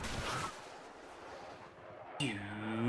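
Rockets fired from a helicopter in Battlefield 3: a short blast at the start, then a rising mechanical whine near the end.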